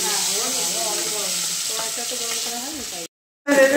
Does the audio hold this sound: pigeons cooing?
no